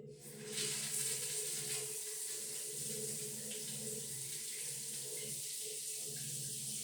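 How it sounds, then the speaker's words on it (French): Shower water in a home bathroom is switched on; a loud, steady rushing spray starts about half a second in and keeps running without a break to the end. "Donc, j'allume l'eau."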